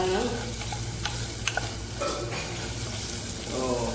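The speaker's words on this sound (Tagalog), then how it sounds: "Haluin lang guys." Chicken wings adobo being stirred in a pan with garlic and onion, a continuous close sizzle of frying with scraping stir strokes and faint clinks throughout, a little background voice at the edges.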